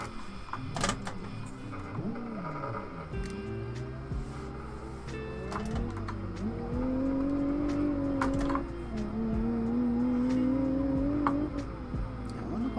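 A race car engine in a racing video game, with a clutch or gearbox fault, revs continuously with a wavering, rising and falling whine that pulses rhythmically, steady and close, with no talking.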